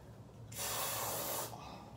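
A can of dry spray deodorant releases one steady, close hiss lasting about a second, standing alone against a quiet room.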